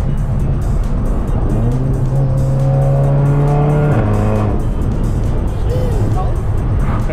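Volkswagen MK7 GTI fitted with a Vibrant resonator cruising near 3000 RPM, giving a steady, subdued low engine drone with road and tyre noise throughout and a voice speaking over it.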